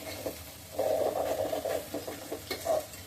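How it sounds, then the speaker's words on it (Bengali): A spoon stirs pilaf in a pot after salt and sugar are added, producing soft scraping and rustling strokes in short bursts, fairly quiet and close, with no voices. "এবার পোলাওর দিকে নুন আর চিনিটা দিই, ভালো করে একটু নেড়ে ছেড়ে নিই।"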